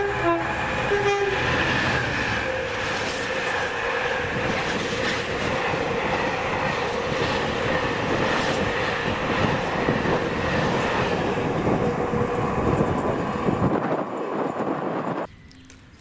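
A Direct Rail Services freight train hauled by Class 66 locomotive 66301 passes through Monifeith, a long steady rumble of engine and rolling wagons with rhythmic wheel clatter, a horn toot near the start, then cutting off sharply near the end.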